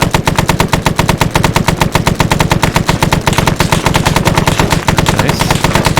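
Video game machine-gun fire, a loud, close, sustained rapid burst of evenly spaced shots running almost unbroken for six seconds, with no talking.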